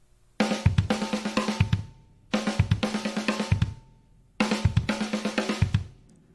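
A drum kit plays three short bursts of rapid snare strokes mixed with kick drum hits, each phrase roughly a second and a half long, with brief silences between them and no speech.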